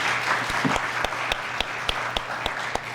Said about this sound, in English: How about some applause for Marshall?